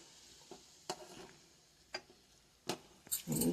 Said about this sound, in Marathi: कमी गॅसवर थोडंसं आणखी उकळू द्यायचं